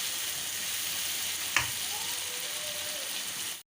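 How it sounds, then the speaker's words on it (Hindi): Masala and tomatoes fry in a pan with a continuous bright sizzle, broken once by a sharp clink of a spoon against the pan while being stirred. "लगातार मैं मसाले की 3 से 4 मिनट तक भुनाई करूँगी ताकि टमाटर भी अच्छे से नरम हो जाएं"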